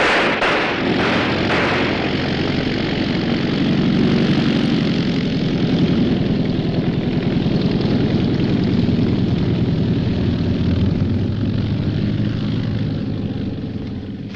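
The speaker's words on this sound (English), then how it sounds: "That's a pickup plane." A propeller pickup plane drones loudly overhead, its engine roar steady and dense throughout, easing slightly as it passes; no voices are heard.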